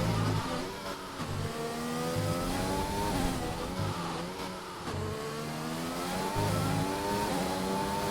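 A Mercedes race car in a racing video game at the Russian Grand Prix, its engine revving up and shifting through gears in repeated rising sweeps, steady and fairly close, with no talk over it.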